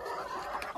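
Chickens cluck briefly nearby, a short burst of soft, throaty calls.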